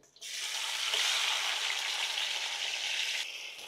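Tomatoes hitting a hot pan after browned onions: a sudden loud hiss bursts in and holds as a dense, steady sizzle for a few seconds, then eases slightly, close by and with no talk.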